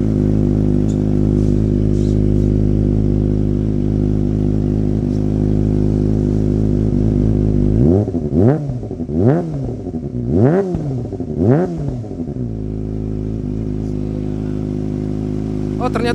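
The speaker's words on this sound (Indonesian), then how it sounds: "Ini adalah knalpot Akrapovic, bunyinya seperti ini." A Kawasaki ZX25R fitted with an Akrapovic exhaust idles steadily up close, then gives four sharp throttle blips that rise and fall before settling back to a smooth idle.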